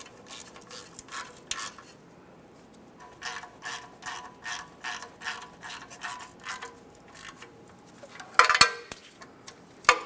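A ratchet turns 14mm oil pan mounting bolts on a 1994-1997 Honda Accord 2.2L I4, giving bursts of rapid clicking in a steady rhythm, close and fairly quiet, with a sharper metallic clatter near the end.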